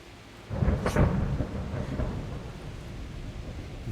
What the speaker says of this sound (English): Not afraid of thunderstorms